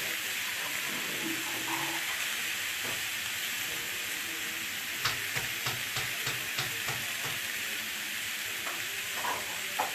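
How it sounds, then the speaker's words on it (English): Potatoes fry in a pan with a steady broad sizzle, while a utensil stirs and scrapes through them in a run of sharp clicks and knocks during the second half, close and moderately loud. "Stir around my potatoes so they can start browning"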